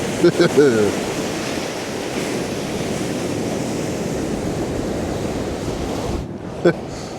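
Large waves washing onto a snowy, freezing winter beach on the UK east coast. A steady broad surf rush carries wind noise, with brief vocal sounds near the start and end.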